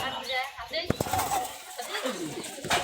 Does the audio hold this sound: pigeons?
yes